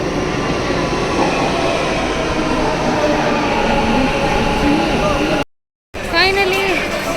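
A metro train runs at a station with a steady, loud rumble and faint rail squeals. Near the end there is a brief silent gap, then the train noise resumes.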